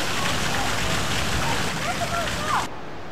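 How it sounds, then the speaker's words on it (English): A natural waterfall beside the South West Coast Path in Devon rushes as a steady, broad hiss of falling water, close and constant, with a brief voice over it before it cuts away at the end. "Oh wow, natural waterfall there."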